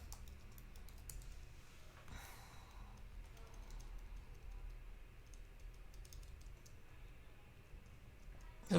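Fingers typing on a computer keyboard, a quiet run of light, irregular key clicks against a low background hum, ending with a louder tap.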